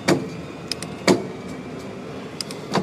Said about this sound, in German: die Gänge ballern mit jedem Gang ziemlich laut rein